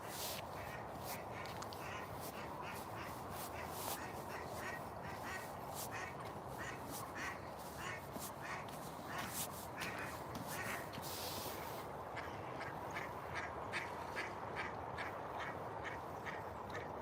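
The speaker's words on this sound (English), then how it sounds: "Oh, the ducks are coming ashore." Ducks gathered on a frosty winter trail pond quack repeatedly in quick, overlapping bursts, a busy chorus of calls carried at moderate distance over constant outdoor background noise.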